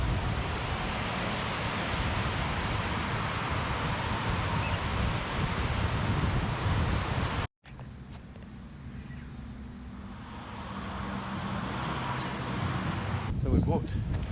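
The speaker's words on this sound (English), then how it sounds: "Very strong wind here." Strong wind blows at the mouth of the Endeavour River, roaring loudly across the microphone. It cuts out abruptly and then returns as softer gusting noise with speech behind it.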